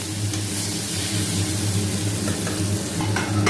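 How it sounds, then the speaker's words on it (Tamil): Chopped onion and tomatoes sauté in a pan for a bottle gourd sabzi, a steady close sizzle with light stirring scrapes throughout, no talking. "ஒரு ரெண்டு தக்காளி போட்டு நல்லா வதக்கி எடுத்துக்கலாம்"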